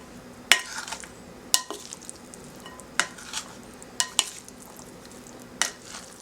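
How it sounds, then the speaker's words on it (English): A spoon stirs cayenne red pepper and chipotle chili pepper into a dish, scraping and clinking sharply against the pan a half-dozen times at uneven intervals over a low, soft sizzle, with no voices. "Then we're going to mix this up."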